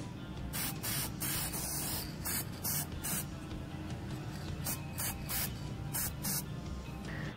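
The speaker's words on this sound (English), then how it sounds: "I began actually spray painting the web shooters after that" Aerosol spray paint can coating homemade Scarlet Spider web-shooter props, heard as a series of short hissing bursts, about a dozen quick sprays in uneven clusters, close and clear over a low background hum.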